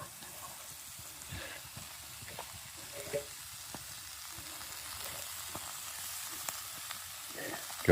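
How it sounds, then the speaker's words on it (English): Food pan-fries over a campsite fire in the woods at night, a soft continuous sizzle and crackle with occasional stirring clicks and scrapes, fairly quiet and steady throughout. "Gonna get that last little bit of pan fry in and get ready to eat"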